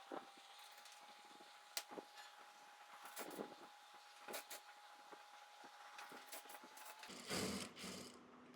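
Sewing machine stitching a crop top, running in short bursts with pauses between seams, fairly quiet and close with light handling noise, ending in a louder rustle of fabric.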